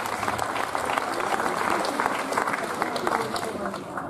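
A crowd of spectators at a live comedy-magic show applauds warmly, a sustained wash of clapping that swells in the middle and eases slightly toward the end.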